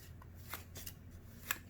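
Playing cards are riffled through an overhand shuffle in short soft slides and light flicks, faint and close, with a sharper snap near the end.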